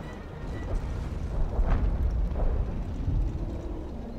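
Explosions from a P-47 bombing strike in a war game, a low rumbling series of distant booms that swell and fade over a steady dull background.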